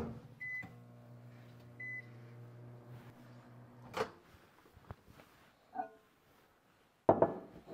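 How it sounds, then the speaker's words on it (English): A microwave oven hums steadily as it runs to melt candy, then finishes with beeps, followed by a door opening and a few clunks and knocks in a quiet kitchen. "we're going to melt that in the microwave"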